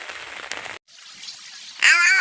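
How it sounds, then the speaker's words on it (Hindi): Water falling continuously at a village in Salkhan, a steady broadband splashing rush that stops briefly, returns fainter, then is joined by a loud tonal voice-like sound near the end. "पानी बंद नहीं हो रहा है, लगातार गिर ही रहा है।"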